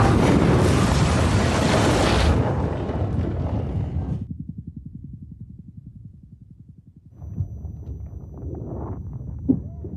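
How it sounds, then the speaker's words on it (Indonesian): A bomb bursts inside a courtroom in the film Joker: Folie à Deux, a loud full-band blast that rumbles down into a low droning roar, then scattered debris and shuffling noises follow. "bom tiba-tiba meledak mengagetkan semuanya"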